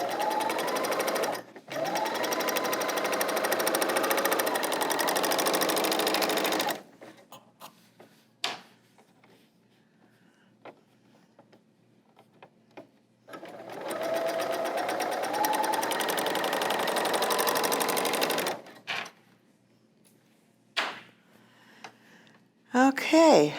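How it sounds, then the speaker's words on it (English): A serger sewing machine stitches a pillowcase in two long, loud, steady runs, with short pauses and clicks between them and a brief burst at the end. "Using a serger for pillowcases is a breeze."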